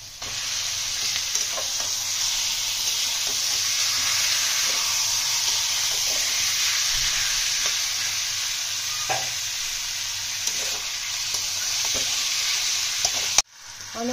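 Chicken pieces frying in oil-released spice masala with tomato, a loud, continuous sizzle and hiss close by, broken by occasional stirring scrapes and clinks, with no talk.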